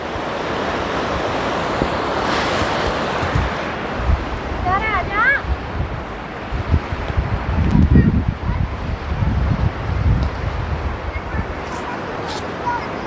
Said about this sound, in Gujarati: મોજા મારતી ઉછળતી કૂદતી ગંગા નદી આગળ વધી રહી છે